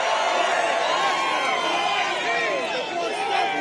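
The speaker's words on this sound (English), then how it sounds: "What a crowd." A large crowd at a political rally fills the scene with loud, continuous cheering, whoops and overlapping chatter, sustained and dense throughout with voices rising and falling.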